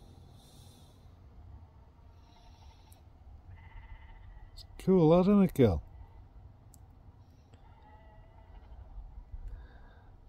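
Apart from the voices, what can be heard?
sheep bleating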